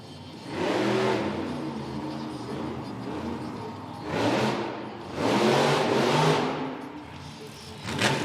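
Monster truck engine at a Monster Jam arena event in Grand Rapids, revving in repeated surges during a freestyle run of stoppie and moonwalk tricks, loud bursts rising and falling with brief lulls, under faint arena commentary.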